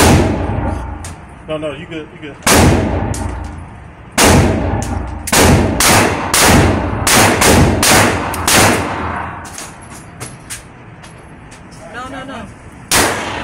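Gunshots from a pink handgun: several loud, sharp, close reports at irregular intervals, with brief voices talking between shots.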